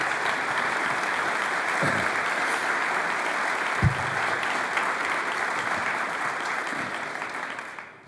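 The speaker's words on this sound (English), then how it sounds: "give them a round of applause for all that they do for us every day" Large audience at a 2018 State of the University System address applauding the trustees: sustained, even clapping across the hall for about eight seconds, fading out at the end.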